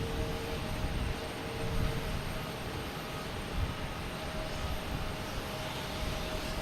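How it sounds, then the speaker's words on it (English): An American Airlines Airbus A321 jet arriving at Boston Logan Airport from Charlotte, with a steady, broad engine roar that holds at an even level throughout, distant rather than close, with no voices. "next to arrive is American Airlines Flight 1998"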